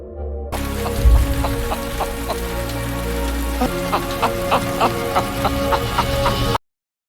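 Rain falls steadily in a New York City film scene, a dense hiss with scattered sharp drips on surfaces, continuous and fairly loud, with a low rumble underneath.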